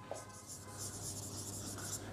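Someone writes on a board during an English grammar lesson: faint, soft scratching strokes that come and go over a couple of seconds, quiet and close, with no speech.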